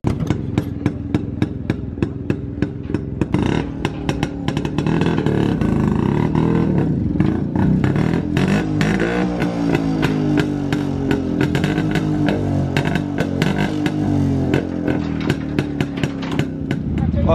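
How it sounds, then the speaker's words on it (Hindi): A custom motorcycle fitted with a Vance & Hines exhaust revs loudly and steadily at a crowded bikers' fest in Delhi, a deep continuous engine roar with sharp clicks and crowd voices mixed in throughout. "वैंसन एंड एग्जॉस्ट"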